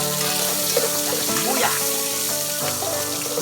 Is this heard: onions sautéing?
yes